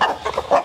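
A large parent-breed hen gives a short run of close, loud clucks.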